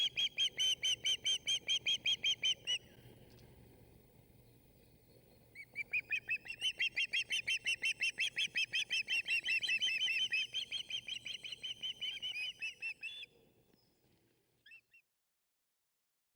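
A bald eagle chick by a lake gives rapid strings of high, piping chirps, close and fairly loud, in two bursts separated by a short quiet gap.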